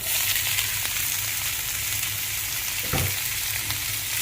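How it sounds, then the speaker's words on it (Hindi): Browned garlic and freshly added vegetables frying in a pan, a loud, continuous close sizzle with a brief scrape or stir near the end and no talk. "अभी गार्लिक ब्राउन हो गया है तो इसमें मैं जो सब्जियां वो डाल दूंगा"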